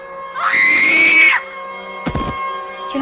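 A girl lets out one loud, shrill scream of fear, close and lasting about a second, followed by a short sharp clatter and a low hum.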